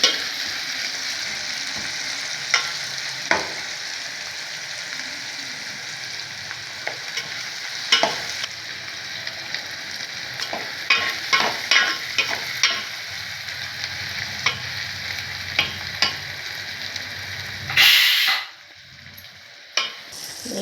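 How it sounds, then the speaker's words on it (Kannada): Onions salted for tomato gojju fry in a pan with a steady bright sizzle, punctuated by scattered stirring clicks and scrapes, close and fairly loud, dropping away sharply near the end. "ಈರುಳ್ಳಿ ನೀಟಾಗಿ ಫ್ರೈ ಆಗಿದೆ."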